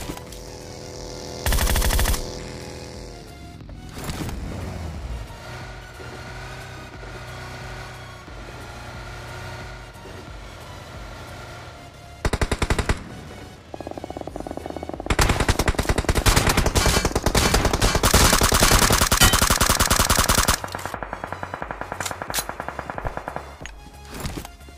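DP-28 light machine gun in the mobile battle royale game BGMI, firing several loud rapid bursts, including a long sustained stretch, with vehicle engine noise and quieter gaps between the volleys.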